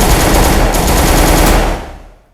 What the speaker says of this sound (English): tell the men on the wall to start firing